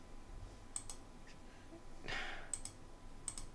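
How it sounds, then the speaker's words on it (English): Quiet mouse clicks while stepping through a Windows setup dialog, a few sharp isolated clicks spaced out with a soft breathy rustle midway, close and faint. "I guess we're just gonna click"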